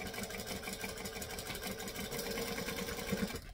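A sewing machine runs steadily while stitching a beach bag panel, its fast, even mechanical whir continuous and close throughout.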